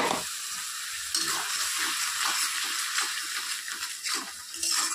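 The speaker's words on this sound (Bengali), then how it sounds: "এখন সমস্ত মশলাটাকে ভালো করে কষিয়ে নেব।" Masala paste with chili powder and a splash of water frying and being stirred in a pan for an egg curry, giving a steady loud sizzle with scraping stir sounds and no talking.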